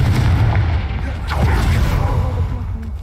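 A Confringo blasting spell explodes in the video game Hogwarts Legacy against a pile blocking a path: a loud, deep booming blast with a sharp crack in the middle and rumbling low end throughout.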